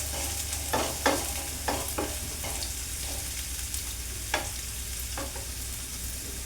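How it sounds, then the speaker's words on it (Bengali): Onions sizzle in a hot pan for Bengali-style keema bhindi, with okra to be sautéed in next, as a spatula scrapes and stirs in a loose, irregular rhythm over a steady low frying hiss, close and moderately quiet, with no talking. "পেঁয়াজটা একটু খানিকক্ষণ ভাজা হয়ে এলে আমি তারপরে ভিন্ডিটাকে এখানে একটু সতে করে নেব।"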